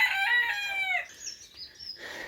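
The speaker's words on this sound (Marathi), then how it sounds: "इकडे सगळी कोंबडी उंबडी सोडलेली आहेत" Free-roaming chickens at a village house in the Konkan, with a rooster's drawn-out crow at the start followed by shorter clucks and chirpy calls, moderately close with no talking.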